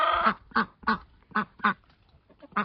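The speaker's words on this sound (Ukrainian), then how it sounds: "Селезні вже б'ються, ці крякаючі." Drakes quack in short, repeated bursts while squabbling, about seven loud calls spaced unevenly over a few seconds, close by and otherwise quiet.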